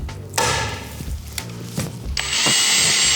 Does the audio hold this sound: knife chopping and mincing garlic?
no